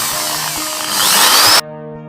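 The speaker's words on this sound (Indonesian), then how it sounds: "kita langsung pakai poles ya" A power polishing tool buffs fishing reel parts to remove crust, whirring up loudly and rising in pitch for about a second and a half before cutting off abruptly, close and alone.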